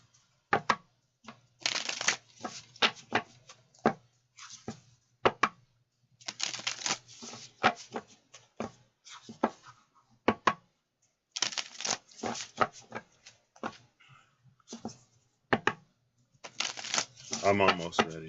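A deck of cards is shuffled up close in repeated bursts of riffling and flicking, broken by pauses. Soft talk can be heard in the gaps.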